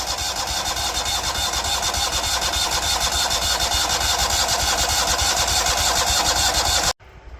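An engine with a newly repaired starter runs loud and close at a steady, rough idle for about seven seconds, then cuts off abruptly, leaving faint background noise.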